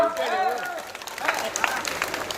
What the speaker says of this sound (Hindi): एक बार यहाँ से वहां तक तालियां ठोक दो साहब